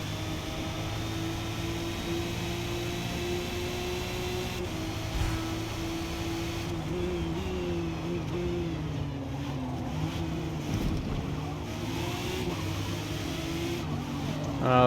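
A Porsche 911 race car engine in Forza drones steadily at high revs, holding a continuous roar with slight pitch shifts during racing, loud and close throughout without any talk.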